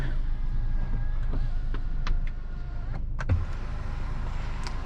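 A power sunroof on a 2015 Mercedes-Benz C300 closes with a steady, low electric motor whir inside the car cabin, running nearly throughout with a faint click near the end.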